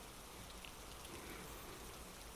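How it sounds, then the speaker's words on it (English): Steady rain falls in an unbroken, even hiss of drops on surfaces, soft and constant with no voices or other sounds. "just listen to the rain"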